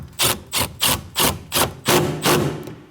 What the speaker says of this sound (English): And now we're gonna get that 10mm bolt snug.